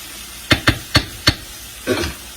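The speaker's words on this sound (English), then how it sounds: "I'm going to stir my pasta." Pasta gets stirred in a pot during a cooking class: four quick, sharp knocks of a utensil against the pot, then a short scraping swirl, close and fairly quiet.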